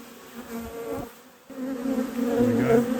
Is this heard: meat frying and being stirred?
no